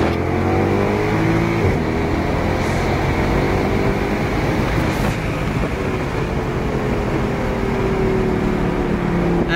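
A 2012 Mercedes C63 AMG engine roars continuously and loud from inside the car, with rising and falling revs as it downshifts and pulls hard, no talking.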